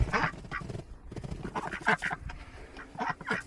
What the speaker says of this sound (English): the two ducks in here.